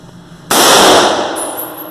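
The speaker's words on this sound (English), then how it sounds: "about to shoot the M1 Garand, the rifle that won World War II" A single M1 Garand rifle shot fired outdoors, a sharp loud blast with a brief decaying tail, followed by a faint high metallic ring.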